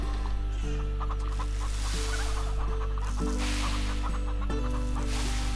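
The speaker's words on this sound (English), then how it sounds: "My hens need feeding." Hens cluck in the farming video game Farm Together, several soft clucks scattered over a steady background hum and simple repeating music, with no talking.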